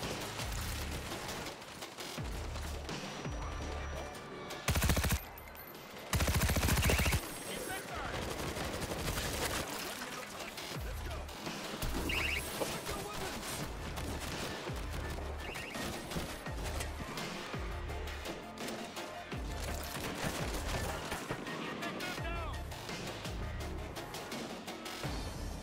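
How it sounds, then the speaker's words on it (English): Stationary gun firing in World War Z: Aftermath, a dense, continuous barrage of heavy automatic fire with crashing impacts, mixed with other game noise and brief shouted voices. "I set up a stationary gun!"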